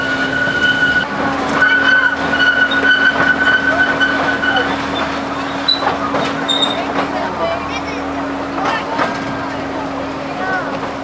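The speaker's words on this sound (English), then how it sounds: "We're getting sick of these squeals." A small train climbs the steep narrow-gauge Driving Creek Railway in New Zealand, wheels squealing with sustained high-pitched tones over a rumbling carriage, while voices murmur faintly in the background.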